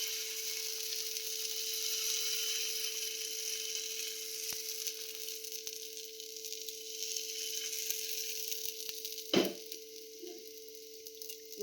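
Patishapta batter sizzles in a hot pan, a steady soft hiss over a low hum, with a brief clatter near the end.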